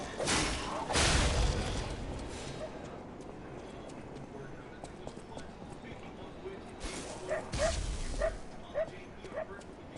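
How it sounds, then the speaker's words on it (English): A dog barks in the video game Lies of P, a few sharp yelps and barks set among game sounds, with a voice talking across parts of the clip. "What the hell is this dog? I can hear it, but I can't see it."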